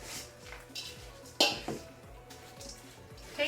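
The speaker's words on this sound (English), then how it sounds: "Stir it up." A spoon stirs a thick potato, cheese and spice mixture with sour cream in a bowl, giving a few scraping knocks and clinks against the dish over a faint steady background.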